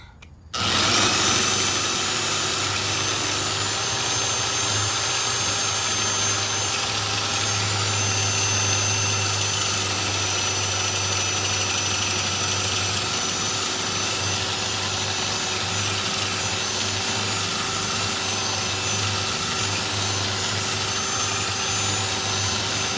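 A power drill, held steady during a Four Winns boat repair, starts abruptly and runs continuously at a loud, even pitch for over twenty seconds with no talking.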